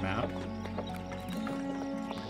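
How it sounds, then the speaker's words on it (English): Horses neigh and hooves clip-clop in the Oregon Trail video game, with a whinny early on and steady hoofbeats running through the clip under continuous talking. "There's horses here."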